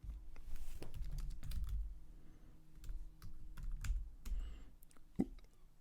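Someone types a single command on a computer keyboard in Windows Terminal. Keys clack in bursts with short pauses between them, close and fairly quiet, with no talking.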